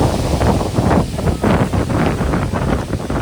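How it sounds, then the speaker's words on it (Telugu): Strong storm wind gusts through trees during a sudden summer downpour, a loud, continuous roaring buffet across the microphone that swells and eases in waves, with no voices. "అలా ఊగిపోతున్నాయి చెట్లు, అంత గాలి వస్తుంది"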